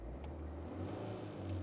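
A 7-year-old Tata Nexon diesel engine idling, a steady low rumble with a faint clattery texture, close and even throughout with no talking.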